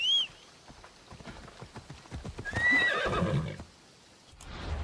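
Horses neigh in the video game Assassin's Creed Odyssey: a loud, high whinny at the start, another whinny near the middle, and soft hoof clip-clop and ambient game sounds between them, with no speech.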